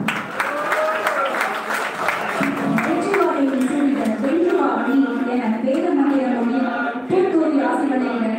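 An audience applauds to welcome Annamalai at an election campaign gathering with senior citizens: steady clapping from a crowd, loudest in the first few seconds, with a voice speaking over it.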